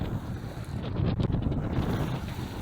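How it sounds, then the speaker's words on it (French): Strong wind buffets the microphone with a steady low roar, swelling in the middle, over rushing water around a sailboat under sail at about 6 knots off Menorca. "le vent est monté"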